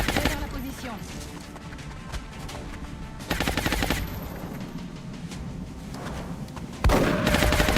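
Heavy gunfire from a shotgun in the video game XCOM Long War, with dense, loud blasts and bursts that swell sharply around three and seven seconds over continuous game noise.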